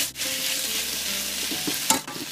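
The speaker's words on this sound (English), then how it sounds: "we're just going to fry our chicken up" Chicken pieces for kung pao chicken fry in hot oil in a pan, a loud, steady sizzle close up, broken by the scrape and clatter of stirring.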